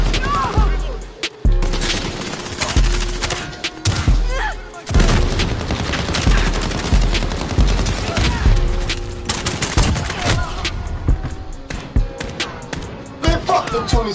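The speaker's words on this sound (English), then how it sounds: "Why are you shooting single fire?" Rapid bursts of automatic fire mixed with single shots and booms from Call of Duty Modern Warfare on the Shoothouse and Shipment maps, loud and nearly continuous, with a voice talking over it at times.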